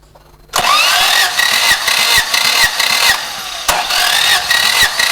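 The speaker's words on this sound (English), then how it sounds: "you start a process by cranking your engine while you fully open the throttle valve" An engine cranks during a compression loss test with the throttle fully open, a loud, rapid rhythmic churning that starts abruptly, runs for several seconds, briefly drops, then resumes close up with no voices.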